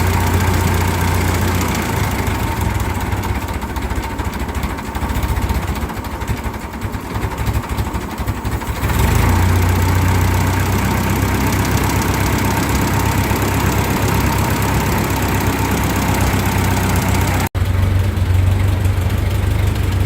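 A 1945 Ford 2N tractor with a front loader idles low and steady, its engine running with a faulty governor and a worn carburetor shaft, loud and close with a continuous rough chugging and a brief dip partway through.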